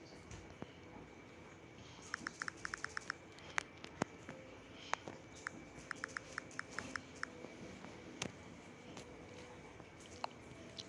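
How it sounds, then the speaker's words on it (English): A phone's touchscreen keyboard gives soft, faint taps in quick bursts, and each tap comes with a short haptic buzz. The clusters are irregular, set against a quiet background, with no talking. "Keyboard tap vibrate."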